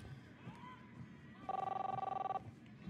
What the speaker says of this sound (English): Chris, answer the phone.